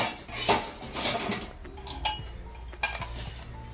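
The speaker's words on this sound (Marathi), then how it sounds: "लाडूचा डब्बा भरून घेते" Cutlery and dishes clink and clatter while a ladoo container and lunch boxes are filled in a home kitchen, with several sharp metallic chinks over a low background rumble and no talking.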